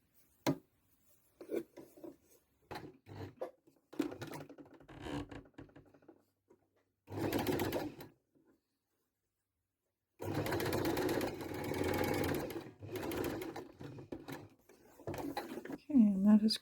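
A home sewing machine fitted with a knit foot stitches two pieces of stretchy t-shirt fabric, running in short stop-start bursts and then in longer steady whirring runs, close up and loud.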